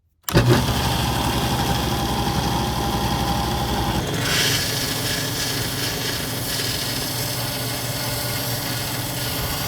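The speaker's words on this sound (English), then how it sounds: "And I can take it to the belt sander." A belt sander starts up abruptly and keeps running loud and steady throughout, its tone shifting as wooden blocks are pressed against the belt in a workshop.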